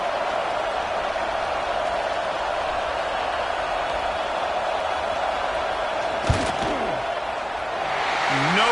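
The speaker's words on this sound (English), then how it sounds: "This crowd trying to do its part to get inside the kicker's head." Football stadium crowd roaring steadily throughout a fourth-down field goal attempt, a dense, sustained far-off wash of cheering and noise with one sharp thump near the end and a slight swell in the closing seconds.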